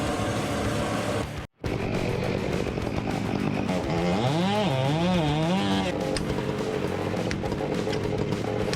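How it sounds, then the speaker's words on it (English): Gasoline chainsaw running loud and close, a steady buzzing drone broken by a brief cut-out early on, then revving up and down in wavering surges before settling back to a steady whine. "The chainsaw has a compact yet powerful design, with a gasoline or electric engine encased in a durable plastic housing"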